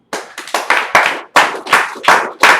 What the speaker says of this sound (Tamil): யூடியூபுக்கு ஒரு கைத்தட்டல் நீங்க கொடுக்கணும்